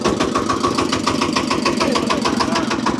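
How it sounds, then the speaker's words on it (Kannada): A river boat's diesel engine on the Sharavathi backwaters near Honnavar runs at a steady idle, a loud, close, rhythmic chugging throb that holds evenly throughout. "ಇಲ್ಲಿ ಇಂಜಿನ್ ಸ್ಟಾರ್ಟ್ ಆಗ್ತಾ ಇದೆ"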